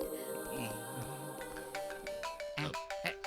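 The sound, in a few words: phone ringing with incoming call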